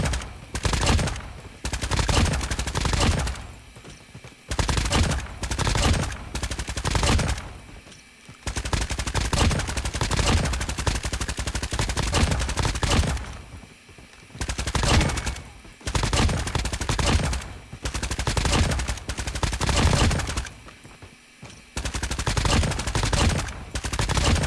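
Loud, sustained bursts of automatic gunfire from a CR-56 AMAX assault rifle in the mobile game Call of Duty Mobile, coming in long sprays with brief pauses between them.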